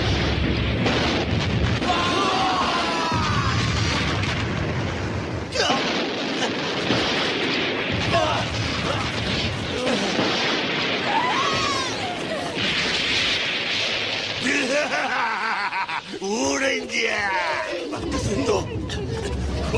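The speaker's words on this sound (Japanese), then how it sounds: "ガソリンに火が、 みんな爆発するぞ。" Gasoline catches fire and explodes in a movie scene, with rolling booms and bursts over a long, dense stretch of roaring noise and shouting voices.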